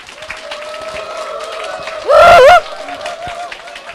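A conference audience claps steadily in welcome as a speaker is brought on stage, a dense moderate wash of applause with a brief loud burst of music or cheering midway.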